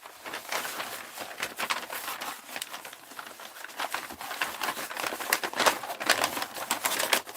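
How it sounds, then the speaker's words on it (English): A sheet of paper being folded and scrunched by hand, close crinkling and rustling in irregular bursts that continue for several seconds. "I hear all this paper scrunching here."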